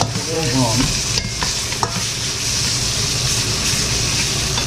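Minced pork being stir-fried for nam ngiao, with a loud steady sizzle and the repeated scrape and toss of a spatula close up, a brief voice at the start.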